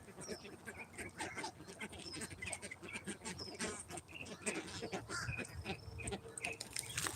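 A crowd of chickens clucks, squawks and caws continuously nearby, a busy overlapping chorus of calls with some talk mixed in.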